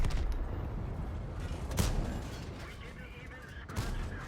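A heavy tank gun fires in a tank video game, apparently from a Foch FV4005: sharp booming shots, one clear blast near the middle and another near the end, over rumbling engine noise.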